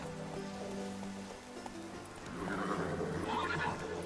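Roach, a horse in The Witcher 3: Wild Hunt, whinnies and moves along with hoof clip-clop over a steady rain-like wash, with game music under it; a voice speaks briefly.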